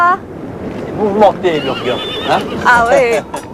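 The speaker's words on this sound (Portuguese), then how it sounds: "Esses são os chamados cavalos pastores, tão habilidosos que às vezes vão buscar o rebanho sozinhos." Herding horses in Mongolia neigh and whinny loudly at close range, several rising and falling calls in quick succession, with faint hoof clip-clop and background noise beneath.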